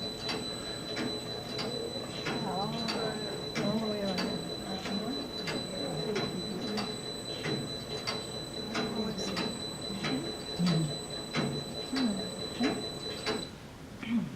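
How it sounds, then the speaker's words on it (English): An industrial sock knitting machine without the ribber runs steadily with rapid regular clicking and mechanical clatter, looping white and blue yarn for stripes, while a voice talks over it near the start. "This is an industrial sock machine, if you want to call it, without the ribber"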